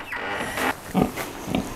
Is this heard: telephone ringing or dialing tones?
no